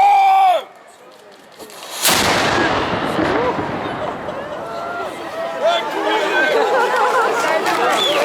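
A historic cannon fires a single loud, booming blast at the Escalade festival in Geneva, followed by a lingering rumble and crowd chatter and talk after a brief spoken command beforehand.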